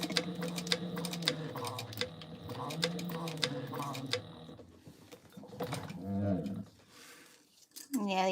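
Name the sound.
sewing machine doing a back stitch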